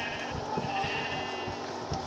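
Sheep bleat in the video game Minecraft, several short bleats repeating at a steady pace over a quiet game background, with no talk.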